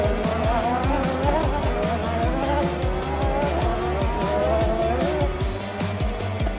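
Racing cars roar at close range, with engines revving hard, rising gear-change whines and screeching tires, all loud and continuous.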